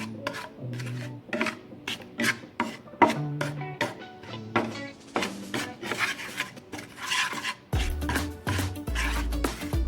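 Food ingredients are mixed in a bowl, with irregular scraping and rubbing strokes and soft knocks in an uneven rhythm, close and fairly quiet, with no talk over them.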